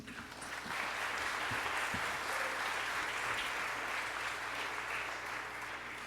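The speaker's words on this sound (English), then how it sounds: "Let's give one more round of applause to Fecia and her tireless work to bring Los" A large audience applauds at the opening session of a Los Angeles neighborhood congress, a steady, dense wash of clapping that swells after a brief start and holds evenly, slightly distant in a big hall, with no talking over it.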